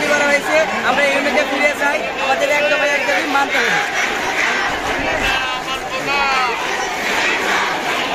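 Crowd of students and members of the public chanting protest slogans in unison at a demonstration over an official's transfer, loud and dense with overlapping voices and rhythmic shouted calls throughout.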